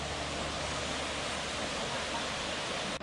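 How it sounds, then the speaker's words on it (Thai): Tad Yeuang waterfall near Pakse in southern Laos pours in a steady, dense roar of falling water, loud and unbroken throughout with no voices over it. "เป็นน้ำตกที่มีความสวยงามที่สุดนะครับนี่ครับของลาวใต้นะ"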